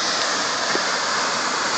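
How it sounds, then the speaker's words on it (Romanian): Water fountain jets burst and spray in a continuous, loud hissing rush of falling water, steady for the whole short moment with no voices. "Ce explozie de apă e aici."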